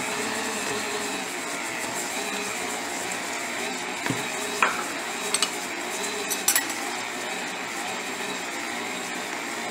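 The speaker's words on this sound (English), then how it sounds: "So put the mixer down, and then you'll just put it on 3 again, and we'll mix it just enough until it blends all together" An electric mixer set to speed 3 blends cookie dough with a steady, even whir, and a few light clinks of the beaters or bowl stand out near the middle.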